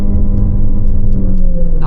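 A Chery Tiggo Cross 1.5 HEV in sport mode accelerates at full throttle, heard from inside the cabin as a loud, steady engine drone and road rumble with a slowly rising whine.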